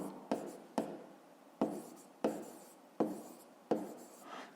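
Pen scratching across paper while working out a fifth-grade math exercise, short strokes repeating every half second to second, close and quiet with no talking.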